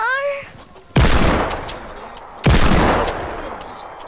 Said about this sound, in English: I didn't know you were shooting at him or doing anything.